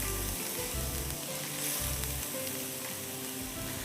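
Onion and cubed vegetables fry in a pan with a steady, close sizzle, over a low intermittent hum.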